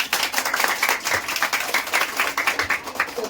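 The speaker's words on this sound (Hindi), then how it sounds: "जोरदार ताली बजाओ" Children in a coaching-centre classroom clap together, a fairly close, uneven patter of many hands pulsing steadily for a few seconds.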